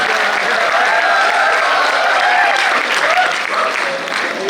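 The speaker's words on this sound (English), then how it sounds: "You can applaud for that" Audience applause at a talk on success for CA students, a dense steady clatter of many hands clapping, loud and close, with faint cheering or voices mixed in and tapering slightly near the end.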